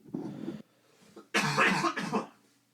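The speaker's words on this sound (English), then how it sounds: "hold on, I got a cough" A person coughs a few times up close, a short cough first, then a louder burst of two harsh coughs, with no talking.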